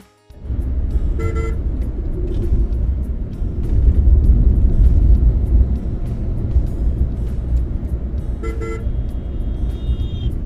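A steady engine rumble on a road in Bihar, India, with two short car horn toots, the second followed by a fainter, longer tone.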